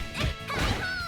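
A sharp, heavy impact burst from a King of Fighters XV shatter strike in a tournament top-eight match, a single crunching smash followed by a brief ringing tail.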